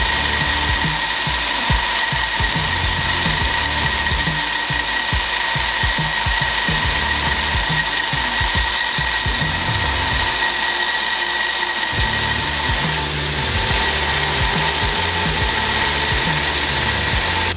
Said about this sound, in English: you go ahead and start grinding this, grind down to this line